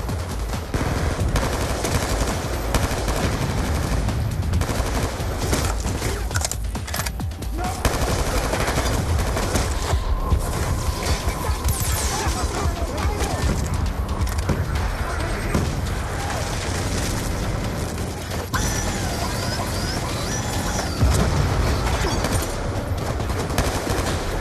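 Dense automatic turret fire and gunfire in Call of Duty: Black Ops II, continuous rapid bursts and booms filling the whole stretch, loud and close with chaotic battle noise.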